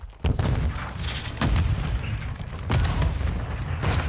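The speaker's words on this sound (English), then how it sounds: "Throwing a stun grenade." A stun grenade goes off in Call of Duty: Modern Warfare 2 gameplay, with loud booming bursts and a rumbling blast over dense gunfire-like noise, all close and heavy throughout.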